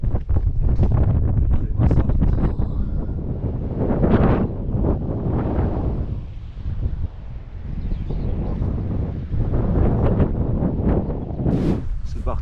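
Strong wind buffets the microphone in heavy, rumbling gusts that rise and fall throughout, at a bunker hanging over a cliff edge, with voices faintly audible underneath.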